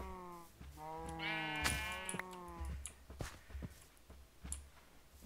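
Several Minecraft sheep bleat loudly in close succession, wavering and overlapping calls, with soft footsteps and shuffling underneath as the flock is herded into a pen.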